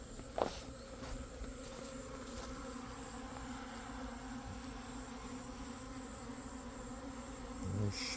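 Honeybees buzz steadily around a small six-frame plastic hive outdoors, a continuous close droning hum with a few faint knocks and a low thud near the end.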